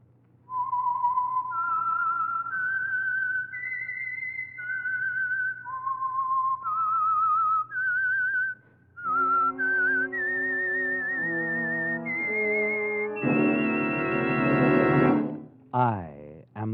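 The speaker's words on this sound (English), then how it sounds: "the signal to listen for is this whistle that identifies the Signal Oil program" A distinct whistled melody of rising and falling notes, the identifying theme of the 1950 radio program The Whistler, then orchestral chords swell in and end with a sweeping flourish.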